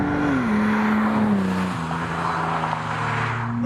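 A 1985-era MK2 Toyota Supra accelerates on the road, its engine a loud, continuous drone that eases down in pitch as the car pulls along.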